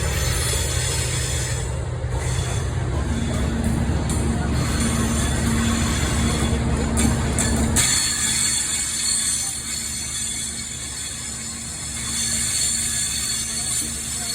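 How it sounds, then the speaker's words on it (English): The delayed train to Glasgow Central pulls into Carlisle station on the West Coast Main Line, a loud sustained rumble of wheels and rolling stock that eases off partway through, with faint squeal. "Coming in now is the delayed M54 to Glasgow Central."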